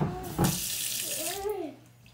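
Tap water runs steadily into a sink as a paintbrush is rinsed, with a short splashy burst near the start, the flow continuing for about two seconds before easing off.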